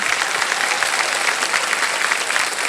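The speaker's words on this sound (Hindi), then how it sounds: "तो इसके लिए भी हम आपके लिए ताली बजवा देंगे।" A studio audience on a game show applauds steadily, a dense close wash of clapping that holds at an even level throughout.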